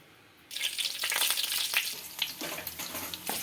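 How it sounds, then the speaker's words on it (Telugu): Green chillies fry in a couple of spoons of hot oil, a sudden loud sizzle that bursts in and stays busy and crackling, with brief stirring bumps and no voice. "ఇప్పుడు నేను ఒక 2 స్పూన్స్ నూనె వేసి ఉంటాను. పచ్చిమిరపకాయలు మగ్గించుకోవాలి ఇలాగా"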